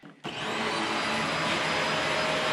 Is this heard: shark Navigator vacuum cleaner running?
yes